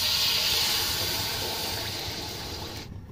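Tomato puree hitting hot soybean oil in a wok, a loud hissing sizzle that starts strong and slowly fades before cutting off.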